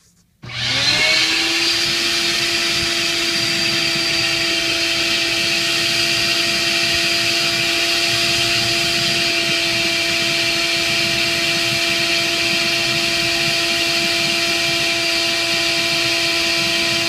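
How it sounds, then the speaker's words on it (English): Shop vac starts up and runs with a steady loud whine and rushing airflow while clearing debris from a drilled hole for house bolting, continuous and close. "next thing you want to do is clear it out with the shop vac"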